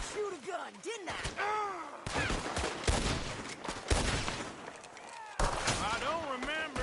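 Gunfire in Red Dead Redemption 2 comes as a close, loud series of sharp shots and fusillades, mixed with shouting and voices between the blasts.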